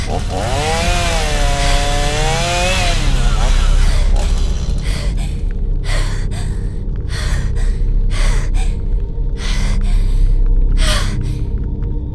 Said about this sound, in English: Sammy clenches the chainsaw with trembling hands